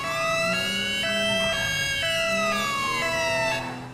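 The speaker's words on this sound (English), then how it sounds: "Okay, sirens off." A police car siren in the video game GTA V, loud and close, cycling through a rapid two-tone wail with sharp pitch switches, then sweeping down and cutting off near the end, with no talking.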